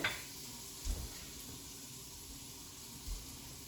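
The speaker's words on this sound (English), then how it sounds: "I have 2 tablespoons of butter. So that's going right into there." Two tablespoons of butter sizzle in a pan on a stove with the flame turned off, making a soft steady hiss with a couple of faint clinks from the pan.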